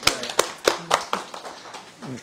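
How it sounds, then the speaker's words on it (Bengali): A small group at a live gathering in Kanchrapara gives a round of clapping, several sharp, close hand claps spread unevenly, with voices talking underneath. "তার জন্য একটা হাততালি দাও সবাই"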